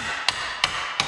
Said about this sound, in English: Take this hammer.